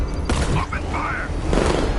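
A volley of gunfire from soldiers in Batman: Arkham Knight, with two loud, sharp bursts amid constant combat noise and shouting voices.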